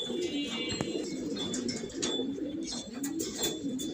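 Domestic pigeons, a fine-breed red-patch fancy bird among others kept for flying, coo in low repeated murmurs close by, with a few faint chirps and wing flutters mixed into steady background noise.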